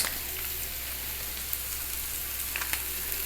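Soy sauce hitting a hot frying pan of poha made with flattened rice, a soft continuous sizzle with a few faint crackles and light spatter, fairly quiet, no voices.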